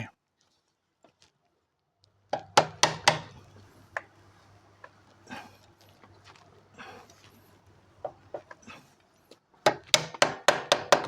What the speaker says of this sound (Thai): อัดตอกเข้าไปสุดๆเลยนะผู้ชม